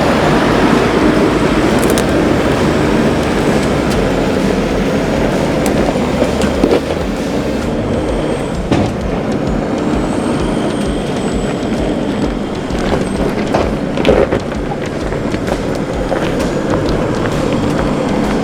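A 4WD descending a steep high country track near Billy Goats Bluff under engine braking, with a steady loud low engine drone and rumbling, crunching tyre and body noise throughout.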